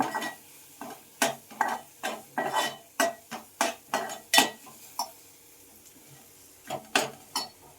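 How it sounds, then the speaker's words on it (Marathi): A utensil stirs a sukat dish with onion greens in a pan, making a quick run of close, distinct scrapes and knocks in an uneven rhythm, with a short pause before a few final strokes and no talk. "आता मस्त मिक्स करून घेऊया आणि त्यात कांद्याची पात टाकते"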